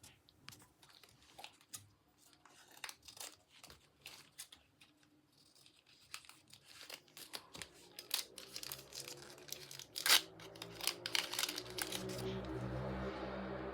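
Plastic packaging of a surprise toy crinkles and tears as it is unwrapped, with scattered rustles and crackles that grow denser and louder near the end, close by with no talk.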